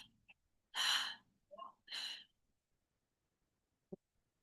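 Slow breath sounds during a guided breathing exercise: two soft, airy exhale bursts close to the mic, separated by short pauses, followed by near silence and one tiny click.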